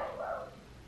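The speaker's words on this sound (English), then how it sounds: "Sorry for my dog, he's barking." A dog barks once indoors, a short, faint, single bark in a quiet room.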